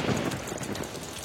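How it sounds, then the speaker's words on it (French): Cartoon rain effect: a dense, loud hiss of falling rain with low rumbling underneath, continuous through a brief moment, no voices. "Vite, voilà qu'il pleut."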